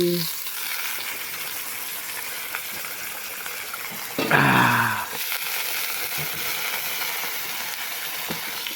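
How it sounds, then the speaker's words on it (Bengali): Onions and pork fry in a pan with a constant close sizzle; a louder hissing surge midway suggests more food hitting the hot oil, then steady frying resumes with no speech. "এইফালে আমাৰ পিঁয়াজ ভাজি আছে ভাজা হৈ আছে এতিয়া আমি গাহৰি দিম"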